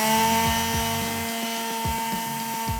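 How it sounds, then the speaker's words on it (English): A power sander works oak stair steps during a staircase remodel, a loud steady whine with a constant motor hum and repeated short dips in pitch as the tool bears down on the wood, with no voices. "Jay and Bryson sand the steps to make them nice and smooth."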